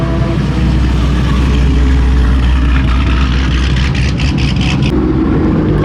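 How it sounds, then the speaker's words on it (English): A Dodge Durango Hellcat pulls away at a car meet, its engine a steady, loud, close rumble that builds slightly as it rolls out, with no talking over it. "Hellcat Durango rolling out."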